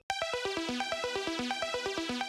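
Arpeggiated synth chords in a progressive house track, a rapid stream of bright plucked notes stepping up and down through the chord progression at an even rhythm, moderately faint and alone.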